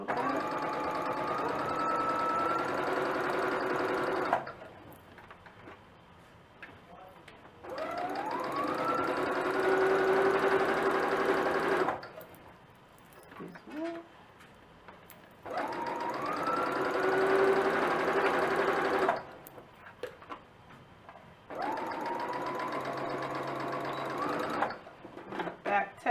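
A sewing machine stitches fabric in four long runs of steady, close mechanical whirring, its pitch climbing as each run speeds up, separated by quiet pauses while a person talks.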